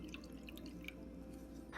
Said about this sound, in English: Add a half cup of cold tap water to it.